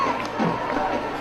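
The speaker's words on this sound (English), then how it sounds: "Crowd starts to rise and get on their feet for the biggest play of the game so far." Crowd cheering at a high school football game before a fourth-down play, a dense wash of distant shouting and roar from the stands, with some voices talking over it.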